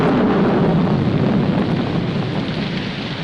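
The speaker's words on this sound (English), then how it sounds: "It's going to rain." Steady heavy rain with rolling thunder from a 1947 film soundtrack, a dense continuous downpour with low rumbling that fades slightly toward the end, no voices.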